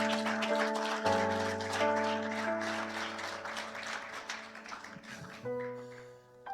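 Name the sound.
congregation applauding in church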